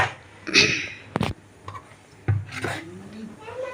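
A spoon drags and scrapes through thick flour batter in a metal vessel with a few rasping strokes and one sharp knock, close and moderately loud.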